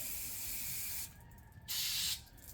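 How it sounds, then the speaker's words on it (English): Spray cleaner hisses into the small holes of a Kohler 6.5 hp engine on a wood splitter that won't start: a steady one-second burst, a short pause, then a second, shorter, close and loud burst. "go through each of those holes and spray."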